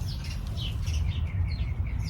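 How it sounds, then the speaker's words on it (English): Small birds chirp in a vegetable garden near blueberry bushes, a few faint high tweets scattered over a low background rumble. "The birds are on the blueberries now."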